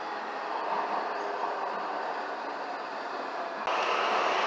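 A Rotterdam Metro Line C train runs with a steady, moderately loud rolling hum and rumble that shifts to a slightly brighter tone near the end.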